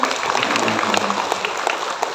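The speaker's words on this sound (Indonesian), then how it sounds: "tepuk tangan dulu" A seated crowd of village development facilitators at a ministerial gathering in Purwokerto claps steadily and densely throughout, with a speaker's voice audible over the applause.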